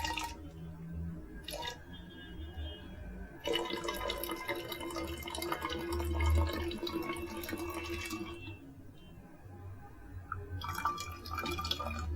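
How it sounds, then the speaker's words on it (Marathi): Water trickles and drips steadily, with a fuller splashing pour in the middle stretch as it is poured into a glass and a bottle, close by and moderately loud. "शर्वरी प्रथम तू त्या ग्लासमध्ये आणि बाटलीमध्ये पाणी होत।"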